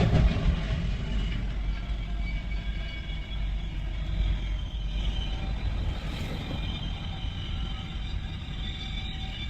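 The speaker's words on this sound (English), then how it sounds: "he heard the ominous sound of the incoming train" An approaching train nears a railroad crossing with a continuous low, heavy rumble, loud and steady throughout, with faint higher tonal whines over it.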